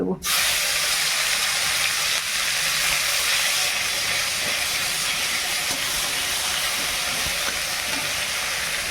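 Onion paste hits hot oil seasoned with nigella seeds and bay leaf, setting off a sudden loud hissing sizzle that holds steady and dense for several seconds, close and strong.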